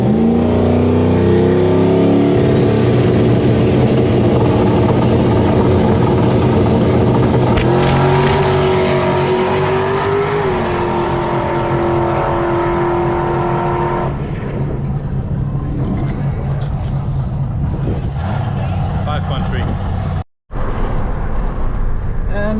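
A drag race car at Malmö Raceway accelerates down the strip during test and tune, its engine rising in a loud, climbing roar that holds, then thins out as the car draws away.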